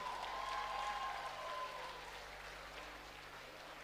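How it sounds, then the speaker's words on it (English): Crowd applause for the winning fighter after an MMA main event at Urban Fight Night, faint and distant, fading gradually with a faint tone drifting over it. "Oh, come on, give him a round of applause,"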